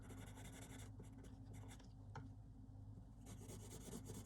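Colouring pencil gliding over paper still wet with blending solution, a soft continuous rubbing scratch with light strokes, close and quiet, no talking.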